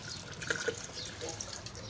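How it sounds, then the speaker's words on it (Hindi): Cold water is poured into a glass while jaggery sharbat is made, a soft, faint trickling and splashing with a few brighter drips and gurgles, close and without talk. "ये मैंने ठंडा पानी डाला है"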